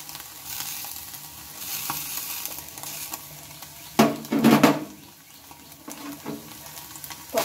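An egg fries in a pan with a soft, steady sizzle, and a spatula stirs it with a few louder scraping strokes midway, close up and without talk.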